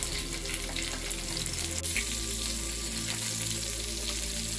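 Fish frying in a pan over low heat, a steady close sizzle and crackle of oil holding evenly throughout with no talking.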